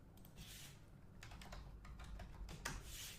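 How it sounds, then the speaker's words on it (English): A search is typed on a computer keyboard as a quick, quiet clatter of close key taps in short bursts, without any voices. "I'm going to type in"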